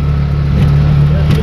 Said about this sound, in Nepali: यसलाई भन्छ डट बाइक